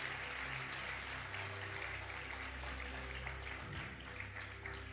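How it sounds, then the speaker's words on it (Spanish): Congregation applause during a church service, steady moderate clapping that continues evenly at a modest level, with a soft low hum underneath and no talk. "Dele un fuerte aplauso al Señor en esta querida mañana."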